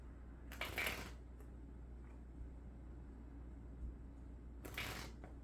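Tarot cards are shuffled in two brief, soft riffling bursts separated by a few seconds of quiet room noise, faint and close.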